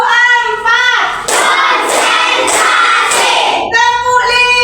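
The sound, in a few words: class clapping hands in rhythm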